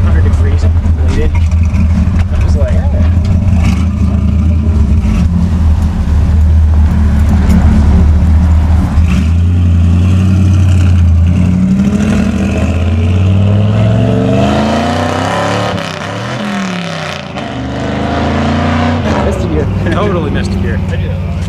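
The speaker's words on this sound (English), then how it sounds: "Listen to the turbo spool." A turbocharged, five-speed-swapped Ford F100 truck engine rumbling and revving loudly up close, with rising and falling pitch sweeps as the turbo spools, while someone talks over it.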